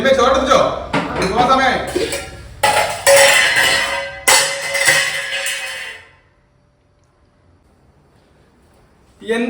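Dishes and pots clatter in a home kitchen with loud, close metallic clanks and clinks in bursts under an angry voice, then fade to near silence.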